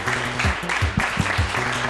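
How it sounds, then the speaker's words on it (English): An audience at a game-presentation meetup claps in a steady, full round of applause, with a voice talking over it in bursts. "big round of applause as well to these guys"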